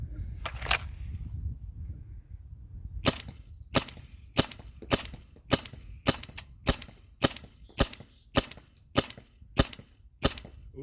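A First Strike paintball marker on a Half Pint air tank fires EMF100 rounds in a steady string of sharp, close pops about every half second, with two quick shots before a short pause, alone and without talk.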